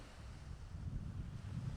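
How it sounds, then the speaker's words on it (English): Low rumbling surf and gusting wind on a Miami beach buffet the microphone, a soft, steady wash of noise without voices. "That's the sound of the beach."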